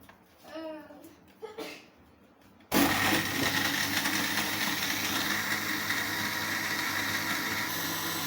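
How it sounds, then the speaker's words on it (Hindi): An electric blender whirs steadily and loudly while blending chocolate milkshake made with Cadbury chocolate, starting abruptly after a brief spoken moment and then running as a constant motor drone. "इसे 5 मिनट हो गए ब्लेंड करते हुए।"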